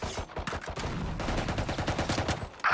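Rapid gunfire in Valorant, a close, loud burst of repeated shots with a rattling automatic rhythm lasting a couple of seconds, ending in a brief sharp effect.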